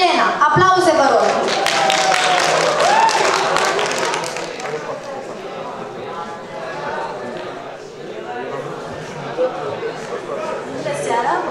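Audience clapping at a high school show in Râmnicu Sărat, a broad wash of applause that starts loud and dense, then thins and softens over several seconds, with a voice briefly audible near the start.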